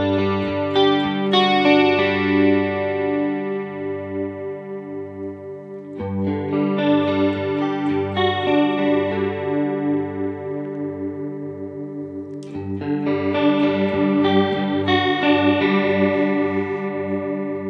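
Electric guitar played through a chorus effect pedal as its rate is turned up, three sustained strummed chords each ringing out with a lush, wavering shimmer, close and clear with no talking.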